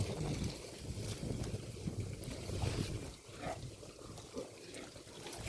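Steady wind blows outdoors, a broad rushing roar buffeting the microphone with gusty swells and rustle throughout, fairly loud and continuous.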